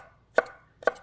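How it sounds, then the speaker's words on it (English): A knife slices through vegetables on a cutting board in two crisp, close cuts about half a second apart, each a short sharp chop, with no voices. "we're going to cut in slices"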